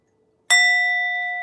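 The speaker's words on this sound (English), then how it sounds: "let's gong, because we didn't gong at the beginning" A gong is struck once after a near-silent start, giving a sudden bright clang that settles into a long, steady ringing shimmer of sustained tones, close and loud, with no one speaking.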